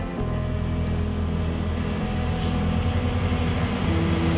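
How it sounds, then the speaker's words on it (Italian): Outdoor traffic heard through an open window, a steady broad rumble of passing vehicles at moderate distance, continuous and fairly faint with no talking. "Scusate il rumore, ma ho la finestra aperta"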